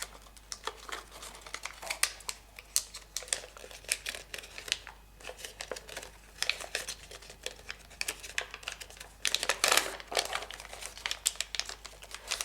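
Origami paper being folded into closed sink folds, quiet close crinkling and crisp creasing in irregular bursts, with a sharper rustle near the end.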